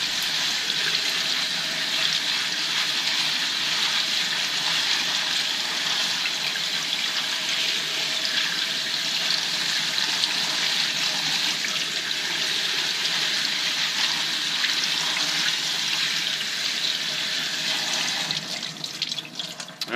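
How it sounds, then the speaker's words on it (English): Split peas are rinsed under cold running water in a sink, a steady, loud, hissing stream that runs without a break, then falters near the end as the flow shifts, with no talk. "So you got to give them a good rinse with some cold water."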